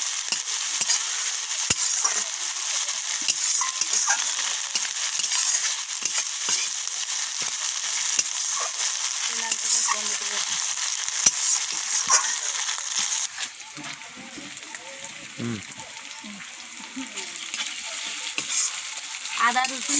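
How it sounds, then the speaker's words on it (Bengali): Ginger, garlic and onion paste frying in a pan while being stirred, a steady close sizzle with scraping spatula strokes and a few clinks, before making a mustard curry with koi fish. "আদা রসুন পেঁয়াজটা ভালো করে ভেজে নিয়েছি"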